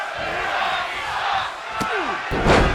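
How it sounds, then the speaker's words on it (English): A wrestling arena crowd in the WWE 2K24 video game reacts with a steady roar and scattered cheers, joined by a couple of sharp slams and a louder surge near the end. "Mixed reaction here from the crowd."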